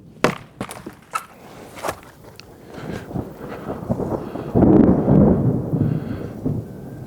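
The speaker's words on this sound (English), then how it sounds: "It's about to storm, y'all." Thunder rumbles outdoors ahead of a storm near garden raised beds, building from scattered sharp knocks into a broad, loud rolling swell midway before easing, with no voices over it.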